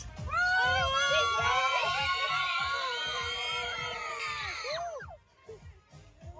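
A group of children at a circumcision celebration shouting and screaming together at full volume for several seconds, then the noise breaks off into quieter chatter.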